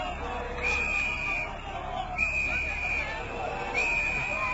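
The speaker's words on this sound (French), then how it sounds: "Une foule immense, une foule venue de Port-Boué, immense comme la mer de Port-Boué, qui est venue dire aux éléphants on vous aime" Huge crowd of fans at Abidjan's Félix Houphouët-Boigny airport greeting the Côte d'Ivoire Elephants football team, a dense babble of voices with repeated shrill whistle-like tones cutting through, loud and steady throughout.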